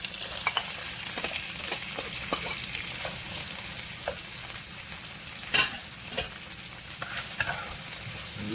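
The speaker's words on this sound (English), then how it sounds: "We're just gonna let this fry out a little bit, cook a little bit." Carrot frying in a pan for curry shrimp and fried rice, a steady sizzle running throughout with occasional stirring scrapes and pops standing out, close and moderately loud, with no talking.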